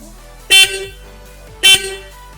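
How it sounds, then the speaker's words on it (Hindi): A Splendor-type motorcycle horn is pressed twice, giving two short, loud, bright honks about a second apart over a quiet background, with no one speaking. "So I will show you the sound as well in this horn कि ये कैसा है क्या है।"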